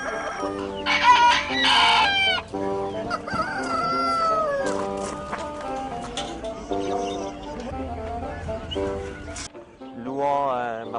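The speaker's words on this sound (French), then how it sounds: "Louhans a un marché aux volailles très important." Chickens and roosters at the Louhans poultry market, with repeated crowing and clucking over a busy crowded backdrop, fairly close, with people talking throughout.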